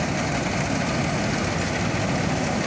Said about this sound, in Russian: Комбайн идет на первый.